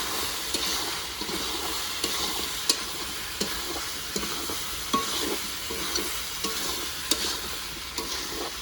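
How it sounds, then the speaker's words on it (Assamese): Chili powder and ground spices being stirred in a frying pan, a continuous close sizzle with regular scraping strokes and light taps of the spoon roughly every half second, with no talk. "এতিয়া ৰংগুৰা দি আমি অলপ লাৰিম।"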